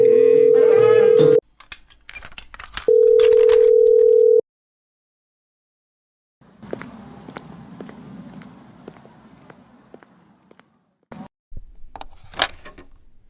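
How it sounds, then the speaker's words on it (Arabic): A telephone rings in a radio drama with two long, loud steady tone bursts separated by a pause. Footsteps and handling clatter follow in a quiet room. "وفي اليوم التاني رن التليفون"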